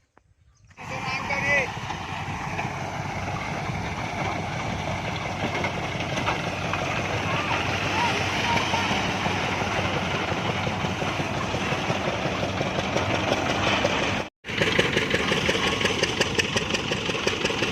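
A tractor-driven groundnut thresher runs steadily in a farm field, its engine drone loud and continuous from start to finish with one brief drop near the end; no voices stand out.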